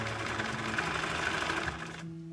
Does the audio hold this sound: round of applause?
no